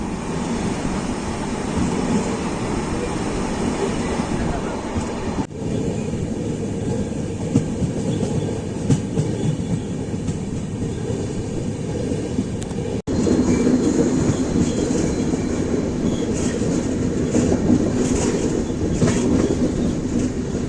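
Shivamogga–Chennai weekly express train running on rails, a continuous loud rumble with rhythmic clickety-clack from the wheels, heard from inside the coach, growing louder and brighter partway through.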